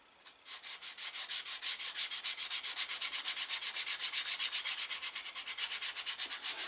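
A leather edge is burnished by rapid back-and-forth rubbing, producing a close, steady run of quick, even swishing strokes, about six per second, with no talk.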